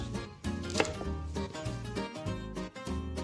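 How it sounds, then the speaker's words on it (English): A knife slicing bell peppers into quarter-inch strips on a cutting board, giving quick, evenly spaced chopping taps close up at a steady rhythm, quiet and alone. "you want to slice these into 1/4-inch strips"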